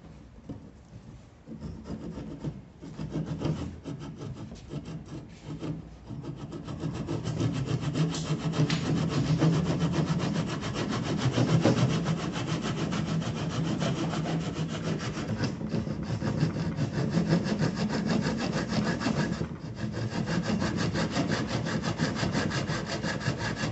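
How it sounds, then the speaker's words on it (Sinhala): A hand saw cuts along a marked line through a clamped piece of wood, its steady back-and-forth rasping strokes continuing close and fairly loud with no talk throughout. "අපි දැන් කරන්නේ මේ සලකුණු කරගත්ත රේඛා අත්කියත භාවිතා කරලා ඒ රේඛාව ඔස්සේ කපා ගැනීමයි."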